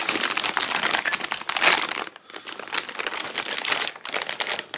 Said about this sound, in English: Get this paper out of the way.